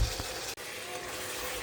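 Spice paste for chicken pulao fries in a pan with a steady soft sizzle, briefly dropping out for an instant before continuing.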